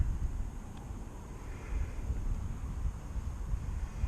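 Low, steady wind buffets the microphone outdoors near a cemetery during a drone flight, a continuous rumbling roar with no other clear sounds.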